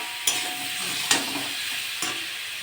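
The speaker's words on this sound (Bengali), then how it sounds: "ভালো করে কষে নেব" Tilapia curry ingredients with salt sautéing in a hot oiled pan, a steady close sizzle broken by three sharp scraping stirs of a spatula.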